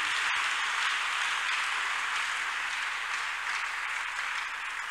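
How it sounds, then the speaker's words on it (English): A church congregation claps together in praise to God, a dense, sustained wash of hands filling the space steadily from start to finish with no voices rising above it. "Let's clap unto him."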